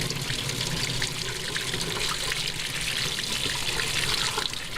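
Hot water gushes steadily from a household faucet, a loud, continuous rushing hiss that holds evenly throughout with no voices over it.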